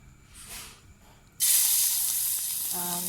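Garlic hits hot oil in a pan and sizzles loudly, a sudden bright hiss that starts after a quieter stretch and holds steady, with a faint low tone near the end.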